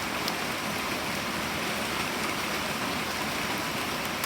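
Heavy, steady rain pours down in a monsoon-like downpour during a drought, a dense continuous hiss that fills the scene from start to finish with no voices.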